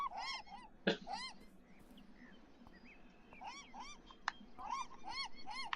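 Seagulls in the video game Beyond Eyes give repeated, nasal honking calls in bursts, several birds overlapping at moderate distance over a faint ambient bed.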